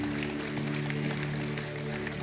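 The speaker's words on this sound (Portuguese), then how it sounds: "Vai aplaudindo aí" A church congregation keeps up sustained applause, a thick, continuous patter of clapping with a steady tonal hum from music or sound equipment underneath.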